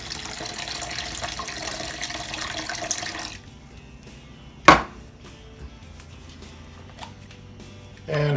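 Pineapple juice, about 10 ounces, poured into a bowl for a rib marinade, a steady liquid stream for roughly three seconds that then stops abruptly, followed by a sharp knock and quieter kitchen handling sounds.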